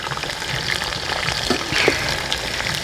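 Potatoes frying in a pan for Peruvian lomo saltado, with onion, tomato and beef nearby: a steady crackling sizzle with a few louder stirring scrapes, close and fairly loud, no talking.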